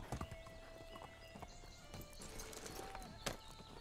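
Hooves clip-clop from a horse in Medieval Dynasty, a quick irregular series of hard knocks over a steady background, with a brief whinny-like tone in the middle, no talk.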